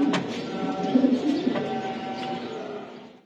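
Male racing pigeon cooing in a few soft, throaty bursts, close by, over a low background murmur.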